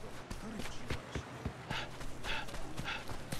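Dogs barking in the samurai-era action game Like a Dragon: Ishin!, a series of sharp irregular yelps mixed with footstep-like thuds and game ambience.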